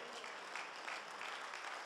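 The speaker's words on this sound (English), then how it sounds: "would you put your hands together and give God praise?" A church congregation claps hands in praise, a steady dense wash of applause filling the space at moderate level, with no pauses throughout.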